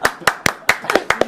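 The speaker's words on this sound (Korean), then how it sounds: "박수가 나오네요." Several people in a television talk-show studio clap in a quick, loose rhythm, about eight sharp, close hand claps in just over a second.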